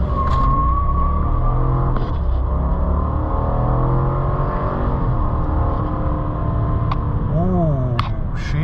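A 2019 GMC Sierra Denali 1500 pickup with a 6.2 liter engine accelerates hard from 0 to 60 mph, its loud engine note climbing steadily through the gears from inside the cab, with brief speech near the end.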